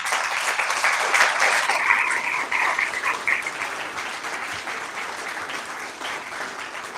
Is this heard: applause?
yes